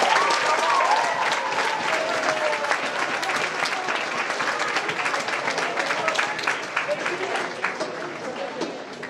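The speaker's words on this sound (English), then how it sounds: "Go ahead and give yourselves a round of applause." A long round of applause from an audience at an awards event, many hands clapping in a dense, sustained roar with scattered cheers and voices mixed in, tapering slightly toward the end.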